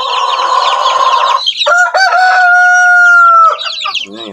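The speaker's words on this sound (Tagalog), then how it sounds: "Ayan, yung ating sisiw." Chickens cluck loudly and close in a small backyard coop, with a rooster-like crow holding a long drawn note in the middle and busy clucking before and after.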